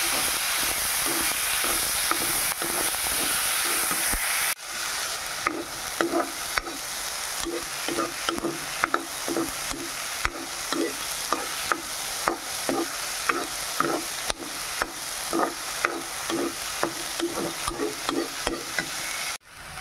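Masoor dal fries in a hot pan as it is stirred: a loud steady hiss at first, then a quieter sizzle with regular scraping strokes of the spoon.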